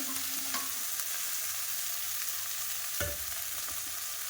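Spice masala sautés in a hot pan for a mushroom dish, a steady sizzle running throughout with occasional clinks and scrapes of a spoon stirring, no voices.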